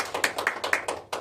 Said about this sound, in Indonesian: Berikan aplaus kepada Mas Abu dan juga kelompok 3.